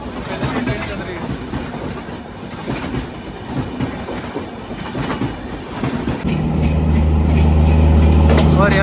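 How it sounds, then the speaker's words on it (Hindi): The Haridwar Valsad Express runs along the rails with a steady rumbling clatter of wheels and carriages, then shifts into a louder, deeper droning hum near the end. "पहले से ट्रेन चल रही है।"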